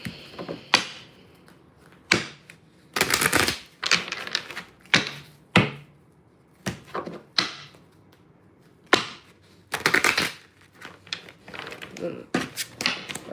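Tarot cards are shuffled in a series of sharp taps and slaps, with two longer riffling bursts, close by and irregularly spaced, while a voice speaks at times.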